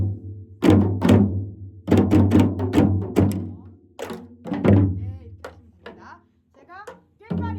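Korean janggu drum played in the samchae rhythm, mixing deep deong strokes with sharp ttak rim hits on the drum's edge, a series of close, loud thumps in uneven clusters, with a student-teacher lesson setting and brief voices between strokes.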